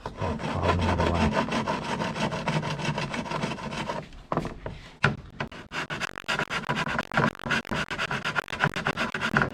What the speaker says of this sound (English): What I'm gonna do first is just use a file.